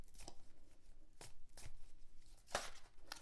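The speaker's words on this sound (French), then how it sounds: "je vais d'abord bien sûr bien mélanger le jeu" A deck of tarot or oracle cards shuffled by hand, giving a few soft riffling bursts separated by short pauses, close up and moderately quiet, with no talking.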